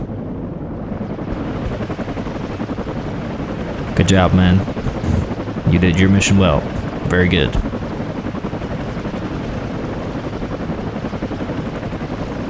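Steady helicopter rotor drone in the video game WARNO runs throughout, with a voice speaking briefly over it in the middle.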